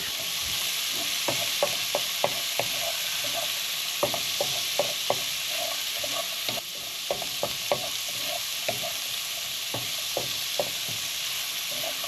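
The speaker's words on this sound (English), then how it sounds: "Then I'll add my leeks into that. And my garlic." Leeks and garlic fry in a pan as lamb shanks are prepared in red wine gravy, giving a steady hiss under sharp, irregular scraping clicks from stirring, close and fairly loud with no talk.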